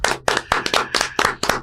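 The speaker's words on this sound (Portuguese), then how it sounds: "Palmas para o pastor Bruno Catunda." A small group claps for a pastor in quick, uneven bursts, close and loud, with hands striking in a fast irregular rhythm.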